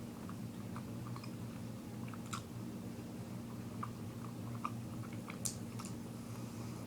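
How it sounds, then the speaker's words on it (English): Biting into and chewing an almond butter creme filled dark chocolate bar, with a few soft, close crunchy clicks and mouth sounds scattered over a steady low background hum. "I'm going to bite in. Try to really get a feel for that almond filling."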